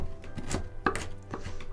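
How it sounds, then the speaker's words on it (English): Chicory roots being chopped with a knife into even pieces, a handful of sharp, close cuts against a board in an uneven rhythm with no voices. "you'd want to chop them all fairly the same size, so that helps with the roasting"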